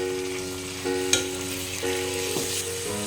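Sliced beef sizzling as it hits a hot pan with onions, a steady fry hiss broken by a couple of sharp crackles and pops, close and fairly loud with no talking.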